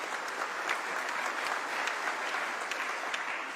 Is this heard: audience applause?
yes